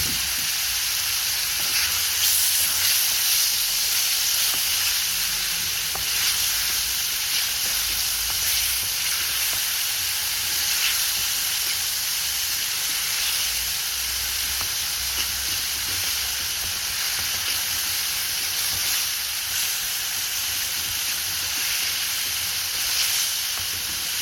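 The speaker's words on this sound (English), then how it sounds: "So the tomatoes have now cooked down and Mum's kind of smushed them with the spoon as well" Whole plum tomatoes with a pinch of salt cooking down in a pan for a kofta curry, giving a steady broadband hiss and gentle sizzle that carries on evenly throughout, with no talking.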